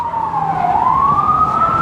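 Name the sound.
emergency vehicle sirens in New York City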